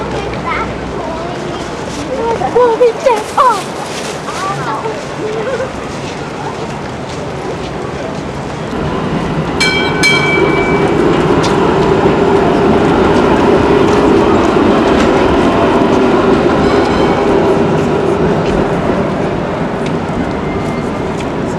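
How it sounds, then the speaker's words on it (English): A Sydney monorail train runs past overhead in Chinatown, its steady rumble building from about the middle and holding loud under street noise, with a bright ringing tone near the start of the pass and people talking nearby earlier. "The monorail is just up there as well."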